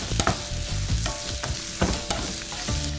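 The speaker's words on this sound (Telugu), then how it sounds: "యాడ్ చేసి ఒకసారి కలుపుకుందాం" Cashews and green chillies fry in oil in a pan while a spoon stirs them. The steady sizzle is broken by repeated scraping strokes and clacks against the pan, with no talking.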